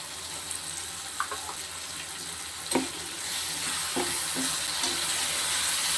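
Ground garlic and ginger paste fries in a pan with turmeric for a prawn curry, giving a soft steady sizzle with a few scraping stirs and clinks, fairly quiet and close.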